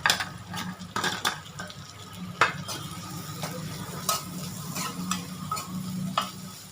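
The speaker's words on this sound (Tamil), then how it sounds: "வெங்காயம் ஓரளவு க்ரன்ச்சியாக ஆகிற வரைக்கும் நீங்கள் இதை வந்து நல்லா ஃப்ரை பண்ணிக்கோங்க" One large onion, sliced into long strips, fries in melted butter with a soft, continuous sizzle, broken by occasional spatula clinks and scrapes against the pan; quiet and close, no talking.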